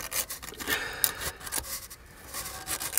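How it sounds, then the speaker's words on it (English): Old silicone sealant is scraped off the mating surface of a part from a 1988 Cadillac Brougham being repaired for fuel and oil leaks, with repeated close, gritty scraping and rubbing strokes in uneven rhythm. "I'm going to keep cleaning this off until the mating surface is silicone-free"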